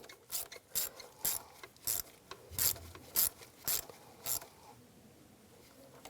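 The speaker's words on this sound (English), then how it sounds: "Tighten these worm clamps down, just snug them up." Worm-drive hose clamps being ratcheted tight on the engine of a Cadillac DTS during a knock sensor replacement, giving a series of about eight short, crisp ratcheting bursts at a steady pace, close and fairly quiet, then stillness.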